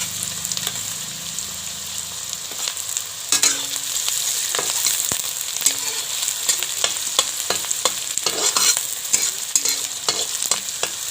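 Onions and chillies fry in a pan for a chicken curry, a steady bright sizzle with repeated scraping stir clicks running throughout, close and fairly loud, no voices.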